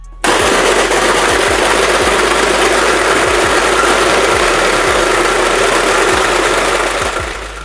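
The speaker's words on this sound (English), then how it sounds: "The motor is also very loud and you need to hold on to it or else it's going to take off." A cheap $30 slush maker's motor runs loud and steady, a harsh continuous mechanical roar with rapid rattling pulses, as the machine shaves ice on a table while shaking hard enough to nearly walk off.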